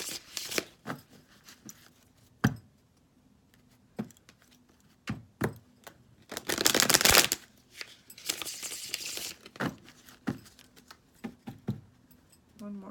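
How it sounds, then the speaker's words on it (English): Playing cards being shuffled nearby, scattered taps and snaps followed by a couple of longer riffling bursts. "A couple more shuffles."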